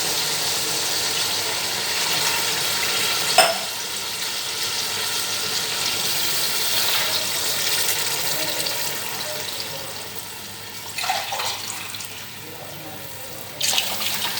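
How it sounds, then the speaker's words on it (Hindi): Water pours from a glass into a pot for mutton pulao, a steady running splash with a few sharp clinks of the vessel, fairly close and without speech. "3 गिलास पानी का और 1 गिलास यखनी का जो है इसमें ऐड करेंगे।"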